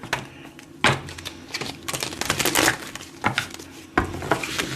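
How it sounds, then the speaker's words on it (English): Tarot cards are shuffled by hand in several crisp, riffling bursts with short pauses between, close and fairly loud with no talk. "Let me get these shuffled up."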